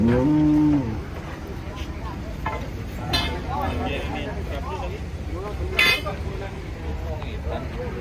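Cattle bought as sacrificial animals being unloaded from a truck, one loud close moo at the start, then busy outdoor noise with engine rumble, scattered shouts and people talking throughout.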